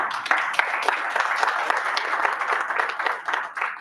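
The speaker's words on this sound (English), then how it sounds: "You should give yourselves a round of applause." Members at a Toastmasters club meeting in Dubai applaud themselves, a moderately loud burst of clapping from a room-sized group with distinct individual claps audible, steady throughout.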